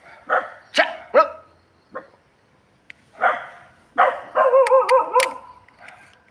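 Stray dogs barking outdoors in a short burst of sharp, separate barks and yips, some overlapping near the end, moderately close and with no talk.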